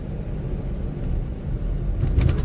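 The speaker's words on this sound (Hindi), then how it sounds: "ये देखो 5th गियर में भी आराम से चढ़ रहा है।" Honda City fitted with a CNG kit climbing a highway grade in fifth gear, a steady low engine and road rumble heard from inside the cabin, without talk.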